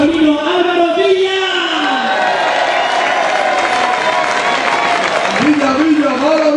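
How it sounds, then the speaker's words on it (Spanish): An audience claps and cheers for a photographer at a lively public event. Dense, sustained applause is heard under a loud announcer's voice, with a crowd close by. "¡Fuerte aplauso para nuestro fotógrafo masculino, Álvaro Villa!"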